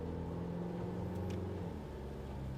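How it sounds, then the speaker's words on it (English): A car engine under Boostec MPC4 transmission control hums steadily through firm manual upshifts, a mid-pitched drone heard from inside, fairly even in level. "So say we get up to speed, we'll do some manual upshifts"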